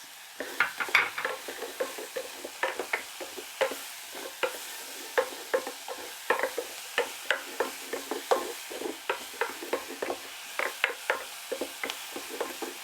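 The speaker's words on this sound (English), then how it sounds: "So when we saute the spices with the onions and the celery, it brings out the flavor even more" Spices, onions and celery sautéing in a pot for beef barley soup: a low steady sizzle broken by a long run of repeated spoon scrapes and stirring knocks at an uneven rhythm, close and moderately loud, with no voices.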